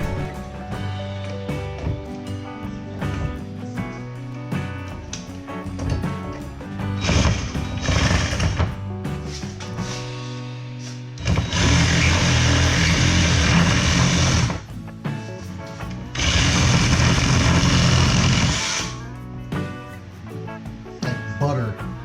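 A Milwaukee Sawzall reciprocating saw cuts into a Polaris Pro XP4, sounding in two loud, sustained buzzing bursts with quieter tool handling and background noise between them.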